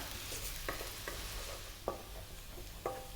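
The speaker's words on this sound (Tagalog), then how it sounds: "medyo toasted na yung ating garlic at luto na rin yung ating ginger" Garlic and ginger fry in a pan for ground pork in coconut, giving a low steady sizzle with several sharp spatula scrapes and stirring taps spaced through it, fairly quiet and without voices.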